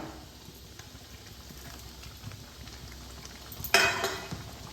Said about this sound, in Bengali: সঙ্গে এই চিকেনটাকে ভালোভাবে মিশিয়ে নেব।